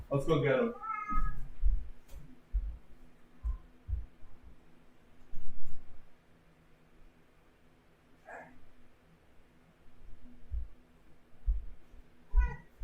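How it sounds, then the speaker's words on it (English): A house cat meows close to a microphone, giving a few short cries scattered among soft handling thumps and quiet background hum, with a person talking nearby. "Put the cat on the mic. He's got something to say."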